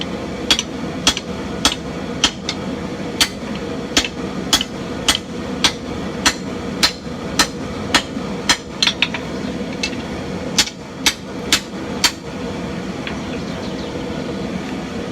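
A hammer beats a sword blade on the flat of an anvil, striking in sharp, ringing blows at a steady rhythm with brief pauses. The blows are close and loud over a low hum in the shop.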